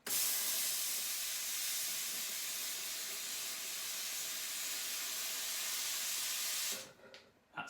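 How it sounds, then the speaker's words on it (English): Steam wand on a Sage Oracle espresso machine purging in a loud, steady hiss of water then steam that runs unbroken for nearly seven seconds before cutting off abruptly. "I'm just going to purge the steam one now, and you'll see a bit of a jet of water come out and then steam"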